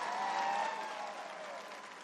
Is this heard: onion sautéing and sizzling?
no